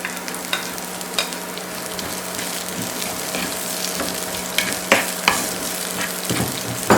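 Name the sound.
Kochchi chillies frying and being stirred in a pan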